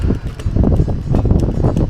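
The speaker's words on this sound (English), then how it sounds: "it's always windy in Greece" Gusts of wind at the Acropolis in Greece buffet the microphone in loud, low rumbling bursts that rise and fall irregularly.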